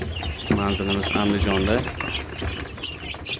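Guinea fowl chicks for sale in Andijan give bright repeated chirps and peeps, close and fairly loud, in a short run mixed with other bird calls while someone talks over them.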